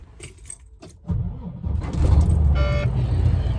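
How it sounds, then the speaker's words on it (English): Keys jangle close by, then a truck's engine turns over and settles into a steady, loud idle on a roadside stop. "Let's get the truck fired up and logs rolling"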